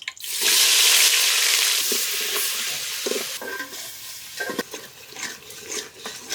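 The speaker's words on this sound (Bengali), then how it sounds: "কাঁচামরিচ হলুদ মরিচের গুঁড়া নুন মশলা কষানো হয়েছে" Onion, garlic, cumin and ginger paste sautéing in hot oil in a cooking pot, a loud bright sizzle right as the ingredients hit the oil, then settling into quieter frying with scraping stirs, close and with no talk.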